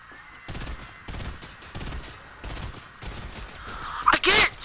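Gunfire in Fortnite Chapter 2 Season 2, four evenly spaced bursts of rapid shots at moderate loudness, followed by a brief louder burst of noise.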